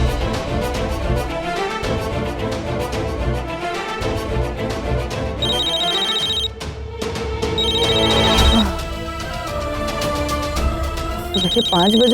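A mobile phone rings during a Hindi TV drama scene, its repeating electronic ringtone tones sounding in bursts over a music bed, fairly loud and close.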